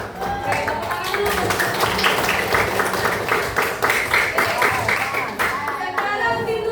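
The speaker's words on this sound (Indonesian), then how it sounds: "Oke, tepuk tangan dulu." Students in a seventh-grade classroom clap together, steady group clapping that stays near and fairly loud for several seconds, with a little talk mixed in toward the end.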